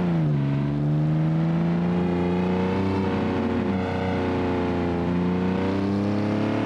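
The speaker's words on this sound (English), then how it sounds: "This car right here, bro, it sounds nice." A car engine in the BeamNG driving game, a loud steady drone with rising and falling pitch as it revs and holds, close and continuous with no talking.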